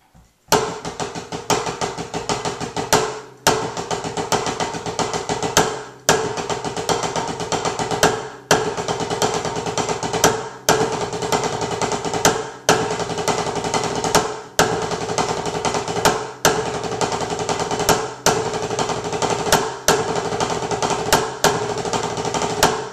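Drumsticks play the Diddle 8-5 hybrid rudiment in a fast, unbroken stream of sharp, close strokes. The phrase repeats with brief accented breaks about every two seconds for over twenty seconds.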